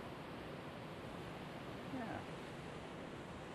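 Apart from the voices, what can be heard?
waterfall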